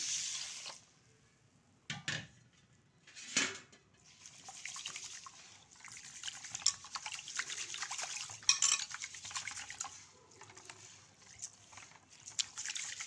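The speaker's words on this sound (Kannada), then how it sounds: "ಇದನ್ನು ನಾಲ್ಕರಿಂದ ಐದು ಸತಿಗೆ ಚೆನ್ನಾಗಿ ವಾಶ್ ಮಾಡ್ಕೊಳ್ತೀನಿ" Water sloshes and swirls as rice is stirred and rubbed by hand in a pot, with occasional clinks and a faint trickle, no talking.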